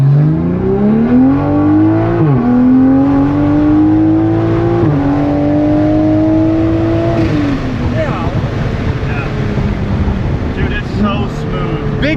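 A 2023 Toyota Supra with an ECU unlock, Bootmod3 stage 2 tune and downpipe accelerates hard. The loud engine note climbs steadily through two quick shifts, then eases off into a rougher, fading rumble.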